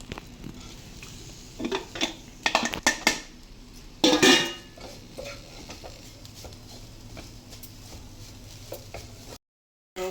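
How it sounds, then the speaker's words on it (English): Wet coconut being roasted and stirred in a pan, with clattering metal spoon scrapes and clinks against the pan in irregular bursts, loudest around the middle, over a low background hiss, ending in a brief cut to silence. "Roasting the coconut to remove its wetness."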